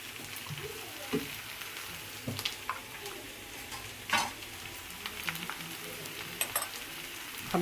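Spiced stuffing with coriander powder, garam masala and red chilli fries in a pan with a steady close sizzle, while a spoon stirs through it with scattered scraping knocks and clicks against the pan.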